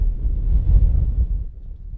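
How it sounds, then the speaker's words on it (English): A strong gust of wind sweeps across an outdoor soccer field at a girls' prep final, a brief low buffeting roar on the microphone that swells and then fades within two seconds. "There's one of those enormous gusts of wind to get things going here."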